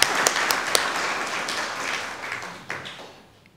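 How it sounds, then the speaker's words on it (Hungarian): Audience applause for the village notary at a reunion gathering in Ceglédbercel, a burst of clapping that starts strong and gradually thins and fades over a few seconds. "Még egyszer, tessék, tapsoljátok meg!"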